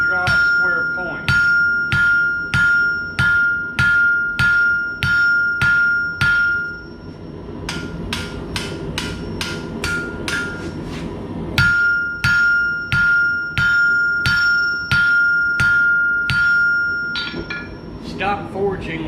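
Tool steel heated hot is hammered on an anvil into a square punch point with steady, evenly spaced blows that ring brightly. One run of strikes pauses briefly, then a second run follows. Close and loud, with occasional talk.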